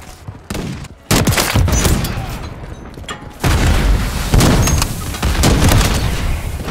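Sniper rifle shots in an online multiplayer shooter game, two loud, sharp reports followed by a dense wash of gunfire and explosive game noise, with no talk.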